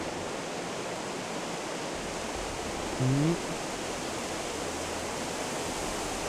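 A waterfall in the Gothic 1 Remake video game produces a constant, full hiss of rushing water, briefly interrupted midway by a short spoken word.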